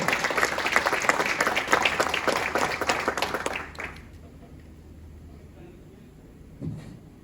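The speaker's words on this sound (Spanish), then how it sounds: "Quiero darle la más cordial bienvenida y recibirlo con un fuerte aplauso a Diego Salazar." A conference audience gives a speaker a warm welcome with loud, sustained applause from many hands for several seconds, then it fades into a quiet room with a faint thump near the end.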